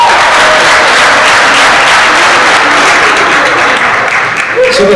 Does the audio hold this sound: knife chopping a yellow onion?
no